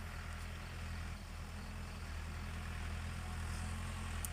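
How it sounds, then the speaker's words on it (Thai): A farm tractor and a sugarcane loader rumble nearby, a steady low engine drone that holds at a moderate, distant level the whole time with no speech. "เสียงรถไถมานะครับ รถคีบอ้อยนะครับ"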